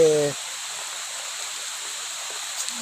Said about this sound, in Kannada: ಪಕ್ಕದಲ್ಲಿರುವ ಹೊಲೆಯಲ್ಲಿ ನೀರು ಅಧಿಕವಾಗಿ ಹರಿಯುವ ಕಾರಣದಿಂದ ಈ ರಸ್ತೆಯು ಬಂದಾಗಿರುತ್ತದೆ